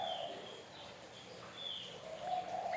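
A small kept garden bird, a Javan opior, calls with soft, thin chirps and cooing notes. The sound is faint and steady, rising in short bursts near the end, with no voices.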